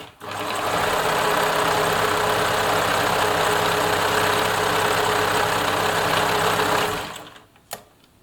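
A Bernina Nova 900 electronic sewing machine runs a narrow zigzag stitch in one continuous, loud, close whirring burst of about six seconds, then stops and gives a single click.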